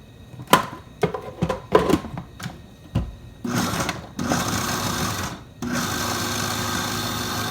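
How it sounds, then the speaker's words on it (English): Food processor pulsing onion chunks for veggie meatballs: a series of short sharp clattering pulses, then longer loud whirring runs, close up with no talk. "add these to the food processor. And then we're gonna just pulse this lightly until things are diced and even"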